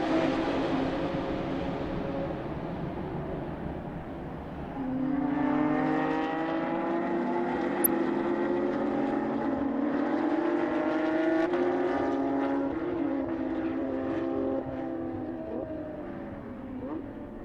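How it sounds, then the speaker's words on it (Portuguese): Porsche GT3 Cup race cars lapping at Portimão during a restarted race, their engines droning with rising and falling harmonic pitch sweeps as cars pass, loud and continuous throughout. "Recomeça a corrida, Francisco Cruz na frente com Parreira"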